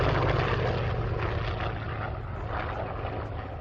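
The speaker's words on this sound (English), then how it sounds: "there's a great big Shvestov ASH-21 radial engine in the nose of this aircraft, 700 horsepower" A vintage racing aircraft with a 700-horsepower Shvetsov ASH-21 radial engine in the nose, flying at an air race day: a steady, loud, rumbling propeller drone that holds throughout.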